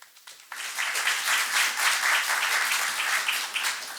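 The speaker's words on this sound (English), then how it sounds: "I would love if you give her a lovely warm round of applause" An audience applauds a speaker at a talk about writing a CV, with steady, dense clapping that swells after a soft start and holds for several seconds.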